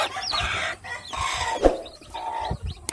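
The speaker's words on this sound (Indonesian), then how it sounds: "anakan ayam." Day-old chicks peeping high and thin among a hen's low clucks, close by, in short overlapping bursts with brief pauses between.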